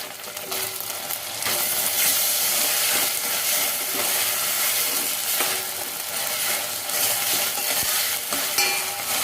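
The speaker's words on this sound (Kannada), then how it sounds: "ಇದೊಂದು ಸ್ವಲ್ಪ ಫ್ರೈ ಆಗಲಿ ಚೆನ್ನಾಗಿ." Tomato frying in a pan for a paneer, potato and pea gravy, with a steady, loud sizzle and hiss and occasional stirring scrapes throughout, no voices.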